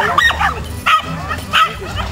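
A small purebred herding dog at Hortobágy barks in a few close, sharp yips spaced about half a second apart, loud and clear.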